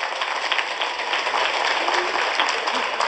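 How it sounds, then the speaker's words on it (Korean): A church congregation claps together in a steady, dense wash of applause, even and fairly loud throughout, with no voices standing out. "회복되시라고 큰 박수 한번 칩시다 우리"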